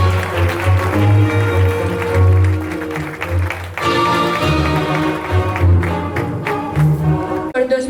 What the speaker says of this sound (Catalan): Acomiadem Aitana amb un fort aplaudiment.